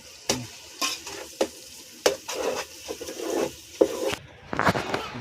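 Chutney being fried in oil and stirred in a pan: a soft sizzle broken by about a dozen sharp scraping and clinking strokes at an irregular rhythm, close and moderately loud, with no talking.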